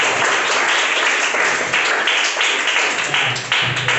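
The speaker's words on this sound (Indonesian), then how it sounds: "Kita beri aplaus dulu untuk kelompok 4" A classroom group claps for group 4 after their discussion presentation, a dense, loud burst of many hands beating together that continues steadily throughout, close and without speech.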